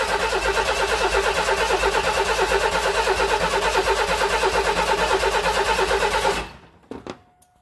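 A Ford 300 truck engine with old or no fuel cranks on and on in a fast, even rhythmic churn that is loud and close, then stops abruptly, followed by a couple of clunks.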